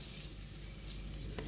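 Pineapple and tomato being stir-fried in a pan for Thai beef hotpot, with a steady close sizzle and frying hiss, plus faint stirring clatter.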